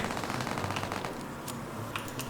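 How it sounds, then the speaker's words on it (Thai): Rapid automatic gunfire in the Roblox zombie survival game, a continuous stream of fast bursts at moderate loudness with a few sharper shots near the end. "เราต้องยิงต่อไป"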